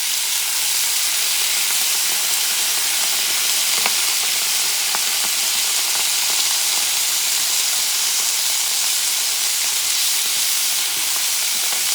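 Green vegetables frying in a wide pan for lamb paella, a loud, even, continuous sizzle and hiss with faint intermittent stirring clicks, no talking.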